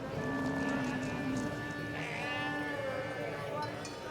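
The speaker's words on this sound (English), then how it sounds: "I decided to take my camera into the biggest livestock market in the country." Sheep bleat at a large livestock market in Pakistan, several calls rising and overlapping, some near and some farther off, over a busy background of crowd noise and murmured voices.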